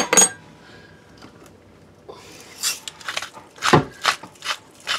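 Kitchen utensils stirring and tossing green salad ingredients in a bowl, with scattered clinks, scrapes and soft taps that come irregularly and close by, louder toward the end.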